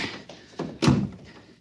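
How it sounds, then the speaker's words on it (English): A heavy control room door swings shut in a 1950s radio drama, landing as one solid, close thunk after a couple of lighter knocks, with no voices over it. "help me close the door."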